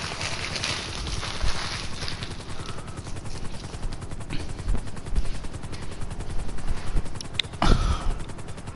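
A Buzzard helicopter in a video game flies with a continuous, loud rotor chop and engine drone, steady throughout with a few sharp bursts near the end.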